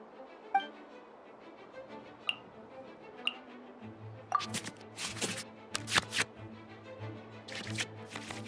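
Cards shuffled back into the draw pile in a video game card battle, a scattered run of soft ticking clicks followed by a denser burst of quick flicking card swishes over a low steady tone.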